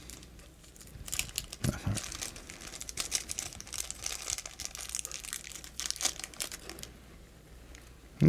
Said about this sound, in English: which I shall take out of the plastic bag, if I can get it out of the plastic bag.